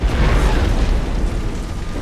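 Barrels blowing up in the stealth video game Splinter Cell, a loud, sustained rumbling boom that rolls on for the full two seconds with no talk over it.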